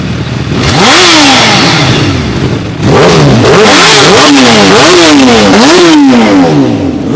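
Motorcycle engines, one of them a Kawasaki H2, roar close by, revving up and down over and over in a loud, overlapping back-and-forth of rising and falling engine pitch during a group road trip.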